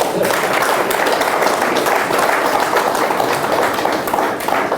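An audience in a Hindi spiritual astrology talk claps in a steady, dense patter throughout, a continuous wash of many hands at moderate loudness with no voice over it.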